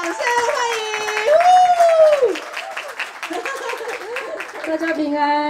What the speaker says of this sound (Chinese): 掌声不够热烈，掌声欢迎